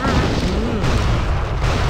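A large dynamite explosion in the video game Gun, a dense, sustained roaring boom that fills the whole stretch at high level without a clear break.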